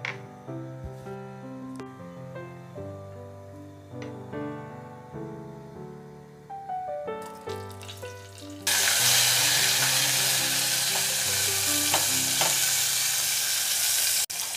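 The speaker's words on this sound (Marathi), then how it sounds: "फोडणी करूया या भाजीची. एक डाव तेल, थोडीशी मोहरी" Hot oil with mustard seeds tempering in a pan for a ridge gourd dish, soft crackle under a musical background at first, then a loud, steady sizzle close up that continues to the end.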